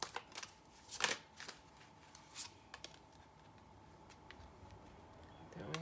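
Tarot cards being handled and shuffled up close: a few brisk, quiet riffles and slaps early on, then softer scattered taps over a faint steady hum.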